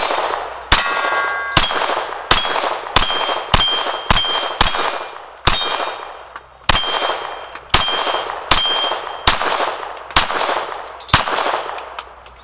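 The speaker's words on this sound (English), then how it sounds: "this is going to be shot number, what, 21 plus out of this gun at the plates here at 12 yards" An FN 502 .22 pistol fires at steel plates 12 yards away: about fifteen sharp cracks, each followed by a bright ringing clang, come at a brisk, slightly uneven pace with no talking.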